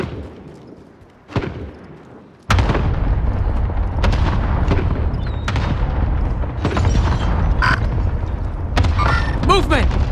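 Artillery strike in the video game Call of Duty: Modern Warfare: one heavy thump, then a sustained roar of explosions and booming impacts with sharp cracks scattered on top, loud and continuous.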